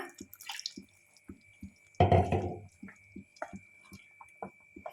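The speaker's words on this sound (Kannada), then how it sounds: "ಈ ಟೈಮಲ್ಲಿ ನಾವು ಇದಕ್ಕೆ ಸ್ವಲ್ಪ ನೀರನ್ನ ಆ್ಯಡ್ ಮಾಡ್ಕೊಳ್ಳೋಣ" Water is poured into simmering mushroom gravy in a pan, a short splashing burst amid soft, irregular bubbling pops and drips.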